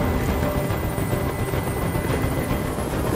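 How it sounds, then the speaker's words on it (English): A helicopter's steady rotor thrum fills the air in Detroit: Become Human, loud and continuous with a fast pulsing chop throughout. "I can't stand that noise anymore! Tell that helicopter to get out of here!"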